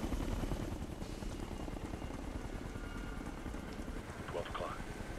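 A helicopter in the video game Ghost Recon Future Soldier thrums steadily and loudly overhead, a constant rotor wash filling the scene with a voice briefly audible near the end.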